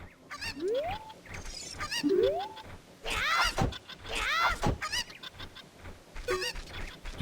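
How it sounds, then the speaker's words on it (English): A chicken in the video game Zelda: Ocarina of Time squawks and clucks repeatedly in rising synthetic cries and scratchy bursts, mixed with other game sounds and no speech. "it feels like there's a chicken stuck in this box."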